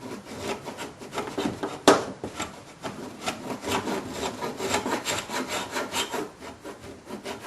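Old paint being scraped off a wooden window sash, a close, repeated rasping of blade on wood in uneven strokes, with one louder scrape near the start and no talk.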